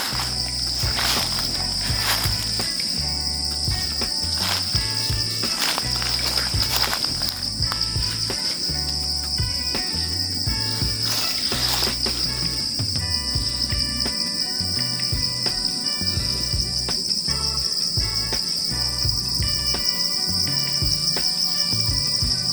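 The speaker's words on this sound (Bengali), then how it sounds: "পাশাপাশি জিজি পোকার জিজি শব্দ" Crickets chirp in a garden, a dense, unbroken high trilling drone that stays loud throughout, with a low rumble and faint scuffs of movement beneath it.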